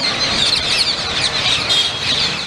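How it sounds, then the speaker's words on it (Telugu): A flock of parakeets calling from a tree, a dense continuous chorus of shrill overlapping chirps and squawks, loud and steady throughout. "చెట్టు నిండా రామశిల్కలే మరి."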